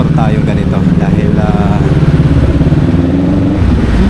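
A motorcycle engine runs steadily throughout on a road trip in Cavite, a continuous low rumble with harmonic drone, loud and close, with talk layered over it.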